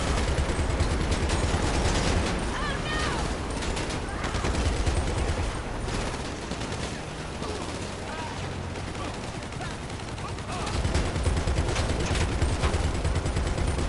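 Turret gunfire in GTA Online, a dense, relentless rattle of rapid shots with no break, loud and close, easing off slightly in the middle and then swelling again, with a voice talking over the shooting.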